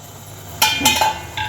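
Steamed kadubu being lifted out of a metal idli steamer, with a few sharp clinks of steel plates and utensils knocking together up close, a brief clatter in the middle and a lighter tap near the end.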